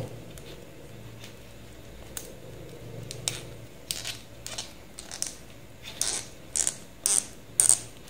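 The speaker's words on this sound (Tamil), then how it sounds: "ஓகே, இப்போ வந்து டைட் பண்ணிக்கிடுவோம்." Fiber optic SC fast connector tightened by hand, a run of faint, close ratcheting clicks that speed up and grow louder toward the end, with no talk.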